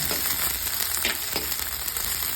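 Chopped green chillies fry in hot oil, making a dense, steady crackling sizzle close by. A few soft knocks break through briefly, and no one talks.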